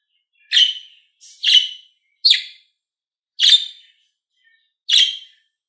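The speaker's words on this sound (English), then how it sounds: "budgies," Budgerigar calls: five short, bright chirps spaced about a second apart, clear and close with silence between them.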